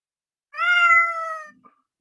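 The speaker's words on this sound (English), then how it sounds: "So it'll give a cat meow sound" A LEGO SPIKE Prime robot plays a single synthetic cat meow lasting about a second, clear and close, with a faint click after it and no talk.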